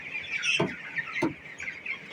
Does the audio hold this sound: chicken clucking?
yes